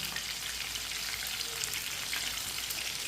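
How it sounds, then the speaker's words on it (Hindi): Chicken frying in oil over a medium flame, a steady dense sizzle with fine crackling pops that holds constant and close throughout, with no voices. "इसे 4-5 मिनट के लिए मीडियम आंच पर पकने देते हैं।"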